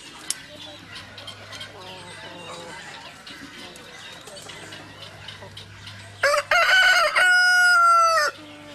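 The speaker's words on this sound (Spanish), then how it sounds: "Son mis gallos favoritos." A rooster crows loudly twice near the end, long drawn-out calls following a quieter stretch of background clucking and low farmyard noise, in Casco Viejo, Panama.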